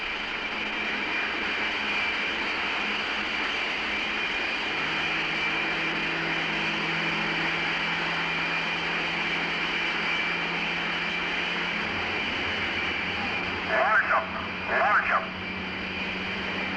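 Steady, loud jet-engine roar from US Navy jet fighters on the deck of the aircraft carrier USS Franklin before catapult launch, continuous throughout, with someone talking over it.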